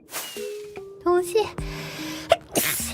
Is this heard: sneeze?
yes